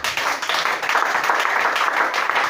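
A church congregation at an Easter service clapping and applauding together, a steady dense patter of many hands held at an even level throughout.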